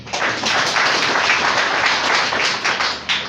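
A church congregation clapping together, a dense, loud, sustained burst of applause close by with no voices over it.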